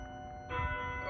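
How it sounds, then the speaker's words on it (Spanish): Church bells of a town ring together, a sustained tonal peal that swells louder partway through and keeps sounding with a steady ringing hum. "echaron al vuelo las campanas de todas las iglesias"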